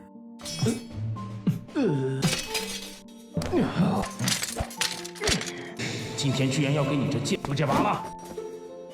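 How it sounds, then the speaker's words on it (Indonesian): A sword shattering on touch in an animated fantasy scene, heard as a sharp crash and tinkling shards amid dramatic swooshing effects and music, under continuous narration. "terlihat di sini pedang yang disentuh oleh Lin Yun seketika hancur"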